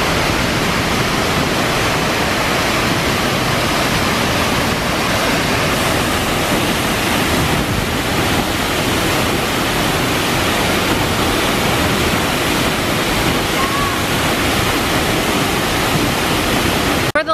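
Hunua Falls roars continuously and loudly nearby, a dense unbroken rush of water with no voices heard.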